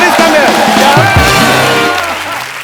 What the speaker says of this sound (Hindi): जोरदार तालियां एक बार क्रिस गेल के लिए